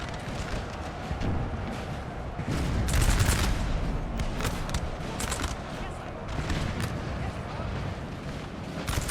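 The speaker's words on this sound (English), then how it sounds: "I can hear the canister firing" Canister shot artillery and massed musket volleys in the Napoleon Total War battle game, a continuous rumbling crackle with bursts of heavier booms, moderately distant and layered.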